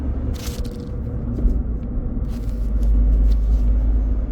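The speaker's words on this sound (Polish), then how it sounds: "jadę smarcikiem, ale ten smart jest w wersji z manualną skrzynią biegów, więc bardzo ciekawie. Czekajcie, muszę zmienić bieg." A Smart car with a manual gearbox drives along, its engine and road rumble a steady low drone inside the cabin, with small clicks and shuffles as the gear lever is moved.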